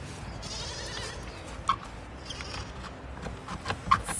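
Goats in a small goat barn make a couple of brief, soft bleats over a steady low rustling background, with no talk.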